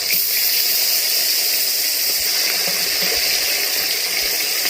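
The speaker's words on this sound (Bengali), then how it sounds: "তেল গরম হয়ে গেছে, এবার আমি মাছ দেব। একটু সাবধানে দেবেন, তেল ছিটকায় মাছ দেওয়ার সময়।" Fish slid into hot oil in a pan for a Bengali fish curry with potato and eggplant, giving a loud, steady, broadband sizzle and hiss that stays dense and continuous throughout, with no voices.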